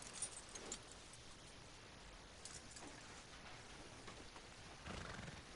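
A horse in the video game Red Dead Redemption 2 whinnies loudly over steady clip-clopping hooves, with a couple of sharp neighs near the start and another near the end.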